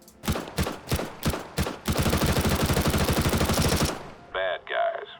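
Rifle fire on a Counter-Strike training course: several single loud shots, then a fast sustained automatic burst, followed by short clipped game sounds, close and punchy, with no voice.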